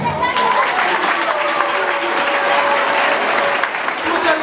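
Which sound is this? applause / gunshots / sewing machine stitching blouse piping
applause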